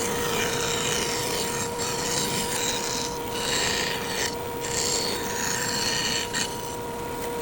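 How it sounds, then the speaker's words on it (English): A bandsaw cutting a wooden circle on a circle-cutting jig, with a continuous rasping cut over a steady motor hum, close and fairly loud with slight shifts in intensity. "we're now going to go to our circle cutting jig on the bandsaw,"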